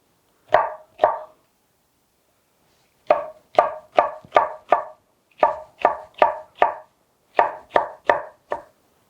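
A knife chops peppers thinly on a cutting board: about fifteen crisp, close strikes in three quick bursts after an opening pair, with silence between and no talking.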